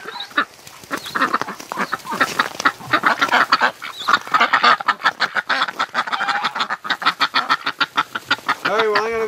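Wintering ducks around a water bath quack loudly and continuously nearby, a dense overlapping chorus of rapid harsh calls with a few honking notes, kept up throughout.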